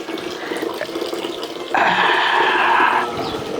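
Water runs from a tap into a bucket indoors, a steady splashing gush that grows louder partway through and lasts a couple of seconds before easing off.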